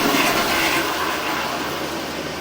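A toilet in a funeral home bathroom flushes with a steady, loud rushing roar that fades slightly over a few seconds. The sound is close and continuous, and no one speaks.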